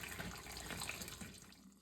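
Flushing water drains out of a small model steam boiler, a soft continuous trickle and splash that thins out toward the end, heard close and alone.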